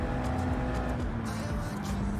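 Subaru race car in Gran Turismo 7 driving hard, its engine a loud, continuous whine with shifting pitch and a touch of tire squeal, heard alone and up close.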